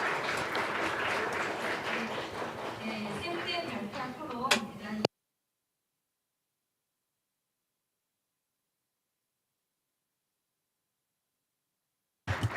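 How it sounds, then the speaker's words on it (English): Conference audience applauding at the close of a journalism round table, a dense burst of clapping for several seconds that fades, then silence, with a brief return of sound at the very end. "let's give them a big round of applause"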